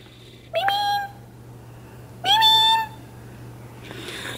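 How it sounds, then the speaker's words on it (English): Two indoor house cats give two clear, drawn-out meows a couple of seconds apart, both close and distinct above a low steady hum, followed by a faint rustle. "the cats are a little angry"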